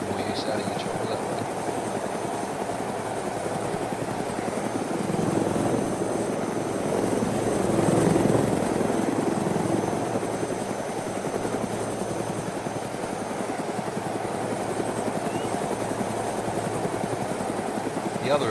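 A helicopter in ArmA II DayZ flies with a steady, dense rotor thrum that swells slightly midway and stays continuous throughout, while someone talks over it.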